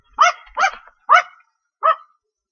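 Dogs bark sharply four times, three quick barks followed by a pause and one more, close and loud against a quiet background.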